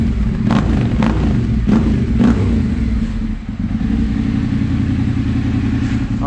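A Yamaha Tenere 700 motorcycle fitted with a GPR exhaust idles close by in a garage, a deep, steady throbbing rumble with a few sharp clattering taps early on.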